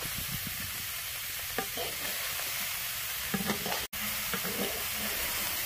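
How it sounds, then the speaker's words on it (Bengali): Boiled cauliflower fries in oil in a wok with a steady, close sizzle, broken by occasional scraping stirs and clinks, and no talking. "যে সেদ্ধ করা ফুলকপিগুলো ছিল সেগুলো আমি কড়াই দিয়ে ভেজে নেবো ভালো মতো করে"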